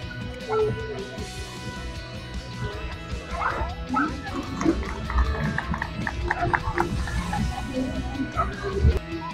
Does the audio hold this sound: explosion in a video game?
no